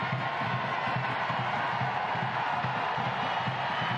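A football stadium crowd at a Washington Spirit versus Arsenal international friendly keeps up a steady, swelling roar of anticipation, dense and distant, with scattered shouts and whoops rising through the din.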